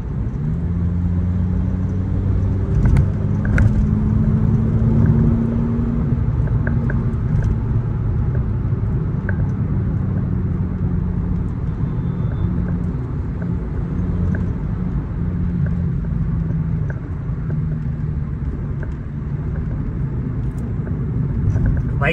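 Several tuned cars at a meet-up rumble and rev their engines together, a steady low, close drone that runs throughout with a few faint sharper bursts on top.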